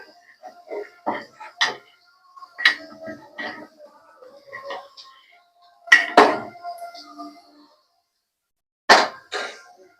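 Spoon working through vegetable khichdi in a metal pot after turmeric is added, a sequence of sharp clinks and scrapes in irregular bursts separated by short silences, close and fairly loud.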